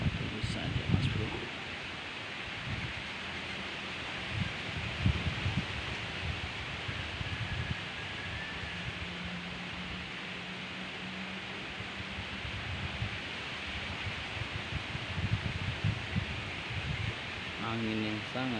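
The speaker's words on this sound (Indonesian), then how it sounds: "Angin yang sangat deras" Strong wind gusts through leaves beside a small ditch in the evening, a broad steady rushing hiss with louder swells, heard close to the microphone, with a voice speaking now and then underneath.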